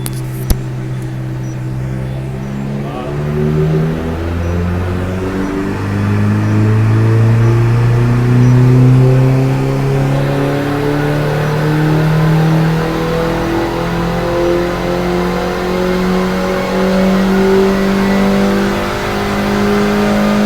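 A petrol car engine revving from idle up to the rev limiter: a loud, close engine note climbs steadily in pitch over twenty seconds and holds near the top, with no talking.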